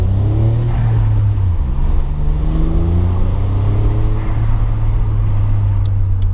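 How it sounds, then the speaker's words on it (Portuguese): A VW Up TSI with a turbocharger drones at a steady low pitch while boost builds, with rising engine tones and faint fluttering from the turbo, heard from inside the car. "Turbina pegando tri bem"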